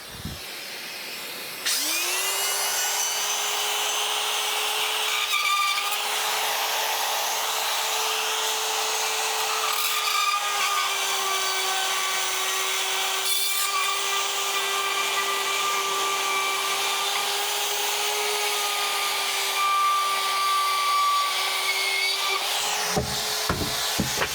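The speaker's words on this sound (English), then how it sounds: "So the trick with the RotoZip, you never use one, so the tip is smooth and it's got fluted cutter here" RotoZip spiral saw with a smooth-tipped fluted bit cutting drywall, a steady high-pitched motor whine and grinding hum running continuously for over twenty seconds, close and moderately loud.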